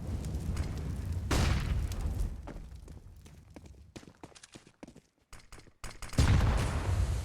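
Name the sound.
grenade stack exploding in Counter-Strike video game, Inferno map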